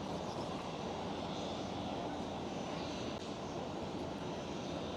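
A British Airways airliner at Schiphol airport in Amsterdam produces a steady, loud broadband engine roar that holds constant throughout, with no talk over it.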